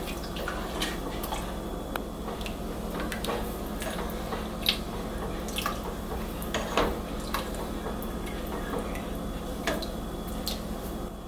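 Dairy-free tomato soup stirred in a pot, giving soft wet squelches and light clinks of a spoon against the pan in an irregular rhythm over a steady low kitchen hum.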